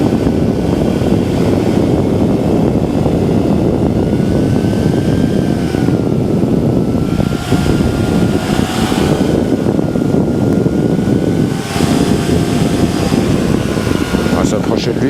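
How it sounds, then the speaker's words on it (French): A paramotor's propeller engine roars steadily at full power for a takeoff, a loud, continuous droning drone that holds close and constant throughout, with voices faintly present beneath it. "Et il met les gaz et il va décoller."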